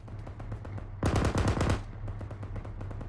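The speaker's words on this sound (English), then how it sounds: "Alright, fire them off, mate, so you can reload." Arma 3 machine gun rattling off its last rounds in one rapid burst of about a second, loud and close, set against quieter ambient battlefield noise.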